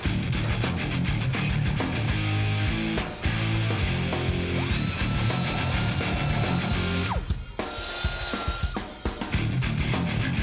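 A power tool chops holes for bushing sleeves in the spring eyelets of a '64 Comet A/FX drag car. The grinding and cutting runs loud and continuous with a shrill metallic whine, and the pitch shifts partway through.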